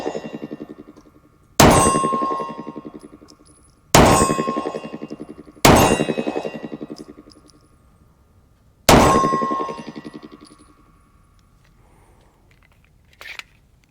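Four sharp, loud 9mm reports from Federal 135 grain Hydra-Shock low recoil rounds, spaced a few seconds apart, each with a ringing metallic decay and no talking in between.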